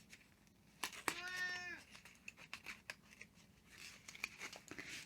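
A single short cat meow rises and falls near the start, close but soft, followed by rustling and crinkling of packaging.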